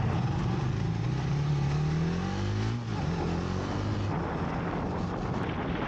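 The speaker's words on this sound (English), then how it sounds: "Scrambler 400X. Here we go, team. First ride on the 400." A Triumph Scrambler 400X motorcycle engine on a first ride, a steady close drone with rising and falling revs under constant wind rush, no talking.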